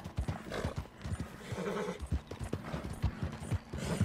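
Horse hooves clip-clop in a steady, uneven rhythm with a neigh partway through, in the Red Dead Redemption 2 video game; the sounds are close and fairly loud with no talk.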